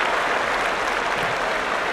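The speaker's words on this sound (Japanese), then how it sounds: "場内から大きな拍手。" Big arena crowd applause during a makuuchi sumo bout at the Kyushu Basho, a thick, continuous roar of clapping filling the hall at steady loudness.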